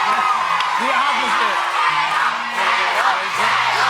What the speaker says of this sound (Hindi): और जितनी भी लड़कियां थी ना सब बहुत ही ज्यादा चिल्लाने लग जाती हैं, जिहोप करके।